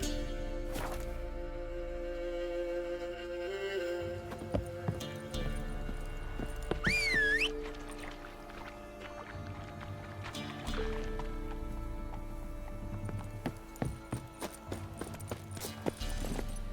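A horse in The Witcher 3 moves under its rider with rhythmic hoof clip-clops and a whinny partway through, set against a layered game soundscape of music and ambience.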